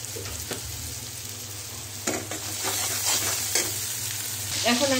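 A masala with coriander powder frying for a katla fish curry sizzles loudly and steadily up close, with spoon scrapes and stirring clatters breaking in every few seconds.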